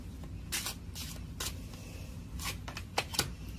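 Tarot cards shuffled by hand in short, crisp bursts with gaps between, close and fairly quiet, ending in a couple of sharper snaps.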